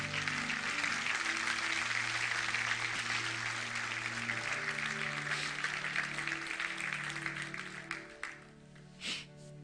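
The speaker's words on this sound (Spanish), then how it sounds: "le dan un fuerte aplauso a Dios?" A church congregation claps in praise to God, a broad, sustained wash of applause over a held musical tone, fairly distant and soft, thinning out near the end.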